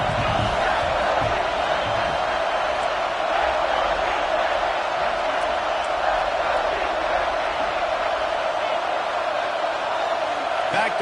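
A home football crowd in a stadium roars steadily and loudly for the whole stretch, a dense unbroken wall of cheering with no pauses.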